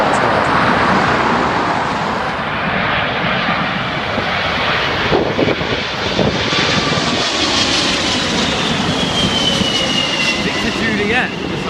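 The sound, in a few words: airliner jet engines, likely a Boeing 747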